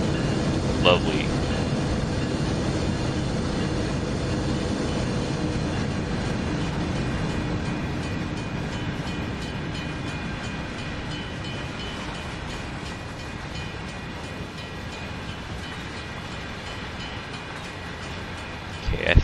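A train in Train Sim World 3 on the Cajon Pass route rumbles steadily along the track at about 23 mph, with a low continuous drone and faint rail clatter, while someone talks over it.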